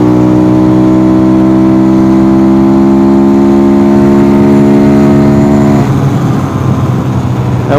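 A Templar M engine screams at a steady high pitch around 8,000 RPM in fifth gear with 13/44 gearing on a top-speed run, loud and close, then its tone shifts and drops in the last couple of seconds.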